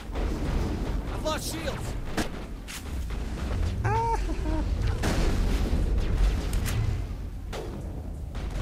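Shotgun blasts and other gunfire from the Mass Effect video game boom through a busy combat mix while a player talks over the action.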